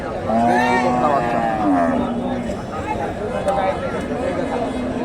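A local cow lows repeatedly at a busy cattle market, with long, loud, close moos and a calf nearby, while other livestock and crowd noise murmur in the background.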